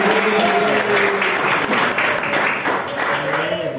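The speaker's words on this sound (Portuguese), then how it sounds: "Vamos receber o pastor Hélio com mais palmas de glória a Deus." A church congregation applauds steadily and loudly throughout, a dense wash of many hands clapping with voices faintly mixed under it.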